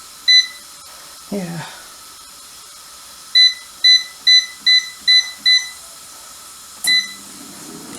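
An air fryer gives a single beep, then a quick run of six evenly spaced electronic beeps and one more beep a moment later, with a brief spoken word and light kitchen clatter between them.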